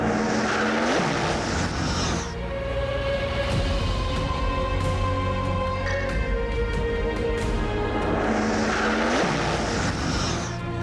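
Rafale twin-engine fighter jets performing at the Bengaluru air show, a loud continuous jet roar that swells twice as aircraft pass close overhead, with shifting engine tones in between.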